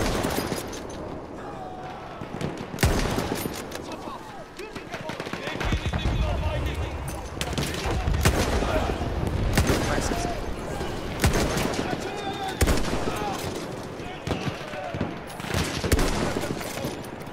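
Battlefield 1 machine gun firing in rapid bursts during a campaign mission, loud rattling volleys separated by short pauses, with a player talking in between.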